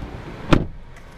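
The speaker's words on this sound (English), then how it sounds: "Go ahead and close the door." The door of a 2016 Volvo XC90 T6 Inscription closes with a single solid thud, close and fairly loud, followed by faint cabin quiet.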